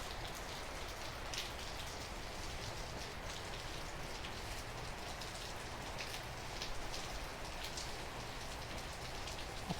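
Heavy, gusty rain pours in Northern California, a steady dense hiss of drops pattering on surfaces with occasional louder splashes, fairly faint and continuous with no voices.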